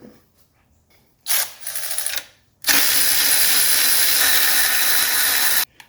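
A wrench backs out a 13 mm bolt from a cracked bracket on a 1983 Mercedes 300TD diesel, giving a brief burst of ratcheting clicks followed by a longer, louder continuous whirring ratchet run, close up and without talk.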